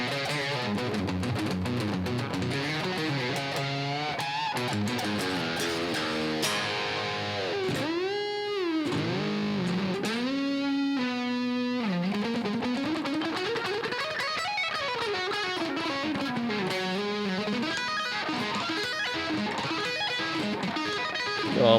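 An electric guitar plays through EQ, compression and its built-in reverb: fast distorted runs and sweeping arpeggios, with bends and sustained notes, played alone and continuously.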